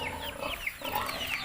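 Pigs grunt and squeal in a busy, noisy pen, with overlapping animal calls and a constant rustling background.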